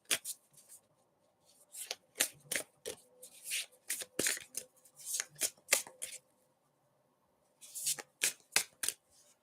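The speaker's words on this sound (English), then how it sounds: "I'm just going to shuffle my cards and then connect with my spirit guides and angels, and then Sabrina will answer your question." Tarot cards being shuffled by hand during a live reading, crisp riffling bursts in quick irregular runs with short pauses, close and fairly loud, with no talking over them.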